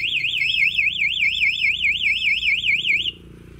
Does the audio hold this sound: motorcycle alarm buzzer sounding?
yes